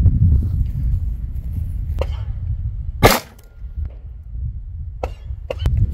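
A .40 S&W pistol fires a Remington Golden Saber round during an outdoor ammunition test, one loud, sharp report standing out from low, rumbling background noise, with a few fainter clicks and knocks around it.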